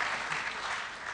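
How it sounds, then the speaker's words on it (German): A crowd applauds at a political gathering, dense steady clapping from many hands that continues evenly throughout, fairly loud and without speech. "Beifall."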